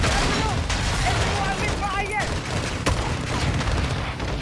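Sustained bursts of light machine gun fire in the Call of Duty: Modern Warfare II campaign, loud and dense with rapid overlapping shots and battle noise throughout, with a short voice calling out partway through.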